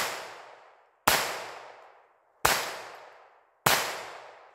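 Three shots from a Taurus TX22 pistol fire at uneven intervals of roughly one to one and a half seconds, each crisp report trailing a short echo, following the tail of an earlier shot.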